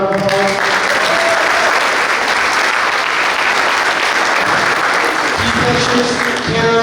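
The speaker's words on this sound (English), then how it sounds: "so give her a round of applause." Steady, full applause from a room of guests at a boys' lacrosse banquet, continuous dense clapping for nearly seven seconds with faint voices mixed underneath.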